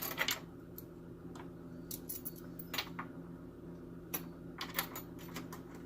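A bunch of metal keys is handled and tossed, giving quiet, scattered metallic clicks and brief jingles spread over a few seconds, close by in an otherwise still room.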